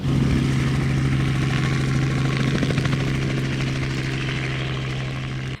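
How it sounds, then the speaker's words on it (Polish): A helicopter giving rides at a crowded outdoor festival makes a steady low drone with rotor throb. It stays loud and even before cutting off at the end, with no talk. "Hitem były też przeloty helikopterem."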